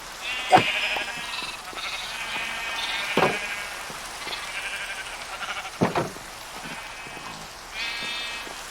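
Sheep bleat several times in a farming video game, penned animals with calls spaced apart, with a soft patter of rain running steadily underneath.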